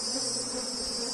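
Honey bees buzz thickly and continuously around a hive box as the frames are shaken during honey harvesting, a close, dense drone with no talk.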